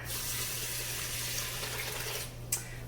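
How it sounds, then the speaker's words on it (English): Water streams steadily into an Instant Pot holding brown rice, a soft continuous pouring hiss over a low hum that fades out near the end, with no talking. "And then you're going to add 3 cups of water."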